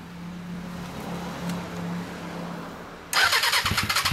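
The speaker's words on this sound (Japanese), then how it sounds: "RPM、GSX400S。 エンジン音聞かして。" Suzuki GSX400S Katana motorcycle fitted with an RPM exhaust, idling quietly with a low steady rumble before the engine is blipped loudly into a rough, pulsing burst of revs at close range.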